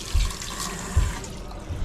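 Hot water runs from a tap as a steady hiss of flowing water, close by, with two soft low thumps from the pipes and no talking.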